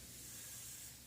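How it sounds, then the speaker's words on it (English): Garden misters spray water over grapes, a steady, faint hiss continuing unbroken throughout with no voices. "I do have some misters going"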